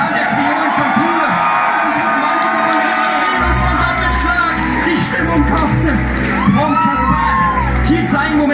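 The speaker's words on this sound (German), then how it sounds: "Unter frenetischem Jubel folgte der Meister der gotischen Synkopen." A concert audience at a gothic band's club show in Hamburg erupts in frenetic cheering, with whoops, shouts and yells over a loud, dense crowd roar that swells further as a low rumble joins partway through.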